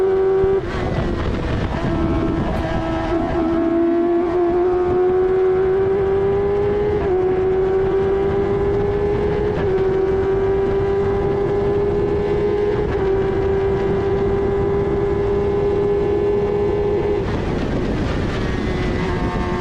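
F1000 race car engine heard onboard at Silverstone, a loud, steady high-pitched drone that climbs gradually in pitch, with a sharp rev change near the start and another burst toward the end.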